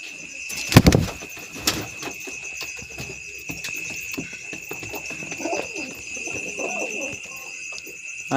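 Pet pigeons kept at home give soft cooing calls that come and go through the clip, following a couple of sharp knocks near the start, with steady background hum.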